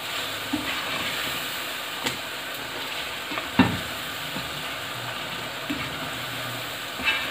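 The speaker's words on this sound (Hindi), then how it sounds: "चलें, अब इसको बस मसाले को भून लेते हैं।" Spices frying in a pan while preparing aloo gobi, a steady close sizzle and hiss with occasional stirring clatters, no talk.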